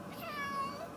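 A single drawn-out meow from a cat on the way to the vet, faint and close, rising slightly then falling, over quiet room noise.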